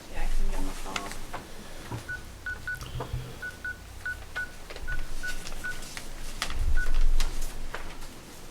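Telephone keypad dialing tones sound during a town select board meeting, a string of short evenly spaced beeps over room murmur, with people talking around them.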